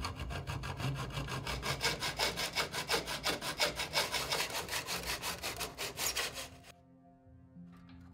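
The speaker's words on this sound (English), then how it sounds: "aluminium is a relatively soft metal, so it can be cut with the simple tools I've got" Aluminium tube being cut with a hand saw, a steady run of close, rhythmic rasping strokes for several seconds that stops abruptly, leaving a faint residual hum.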